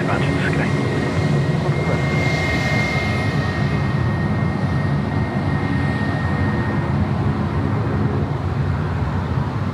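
A passenger plane departs runway 16 at Sydney Airport on an evening flight to Port Macquarie, a loud, steady roar of aircraft engines that fills the whole stretch, with people talking faintly beneath it.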